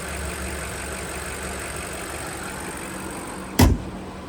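A 2025 BMW X5 M60i xDrive with a 4.4-litre twin-turbo V8 idles with a steady low rumble, close by and even, broken near the end by one brief sharp knock.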